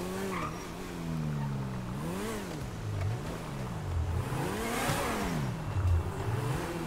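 A car engine in GTA 5 revs up and down in repeated swooping surges, with tire squeal and skidding noise over a rough background, fairly loud and without speech.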